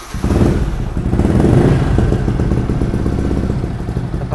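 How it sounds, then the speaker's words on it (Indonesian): Yamaha Vixion motorcycle engine running steadily up close, a loud, continuous mid-pitched rumble with a rapid pulsing beat that holds even after a quick start. "Kita coba sepil nyalanya motor ini,"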